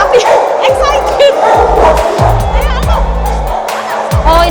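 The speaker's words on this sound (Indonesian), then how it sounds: "Bener-bener disambut sama gonggongan mereka ya guys." Police tracking dogs at a police animal unit bark repeatedly in loud, close bursts, with some yips mixed in among the barks.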